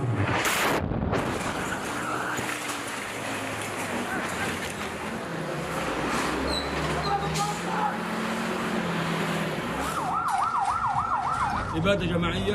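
A wailing ambulance siren sweeps up and down over steady traffic and street noise in Jabalia, Gaza, loud and close, with voices faintly underneath.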